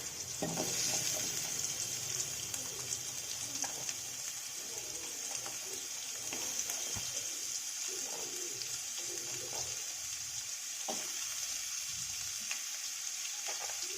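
Big onions sizzle steadily in a hot pan for tomato chutney, a constant crackling hiss with occasional stirring clinks, close by and without talk.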